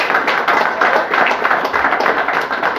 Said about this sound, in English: Cottle Heffernan, give a round of applause.